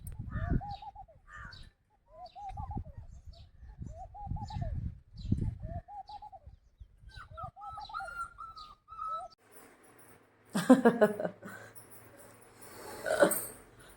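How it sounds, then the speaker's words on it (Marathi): Repeated soft cooing of a dove or pigeon in gentle rhythmic phrases, followed by a burst of louder rustling and scraping noise near the end. "पानांचा पक्ष्यांचा कसा आवाज येतोय बघा"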